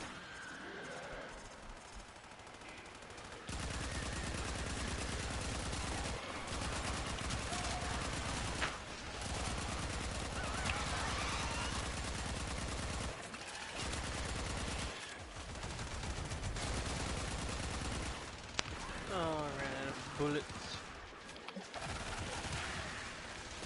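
Gunfire in the Warframe video game, with dense, sustained bursts of rapid shots roaring over a loud, busy mix of action sounds, broken by brief pauses.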